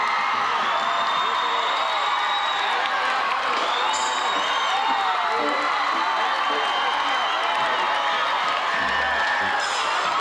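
A crowd at a concert in Benissa applauds and cheers loudly, with whoops and shouts mixed into a continuous roar that stays dense and even throughout, no clear speech standing out.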